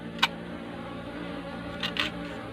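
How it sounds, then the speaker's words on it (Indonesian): Wild honey bees buzz faintly in a wooden trap box, a soft continuous hum with a few sharp clicks standing out now and then. "itu sudah terisi lebah madu liar lagi ya"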